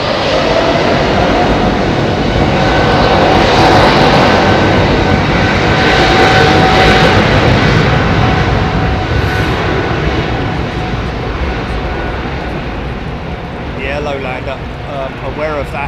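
Jet airliner engines spool up for takeoff at Heathrow, a loud, sustained broadband roar that holds steady and close before easing slightly toward the end.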